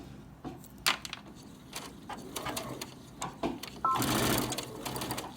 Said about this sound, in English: I'm going to stitch a couple stitches and then back stitch